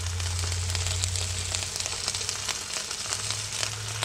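Steady crackling sizzle of chorizo frying in a pan, with constant popping and spitting and a low hum beneath.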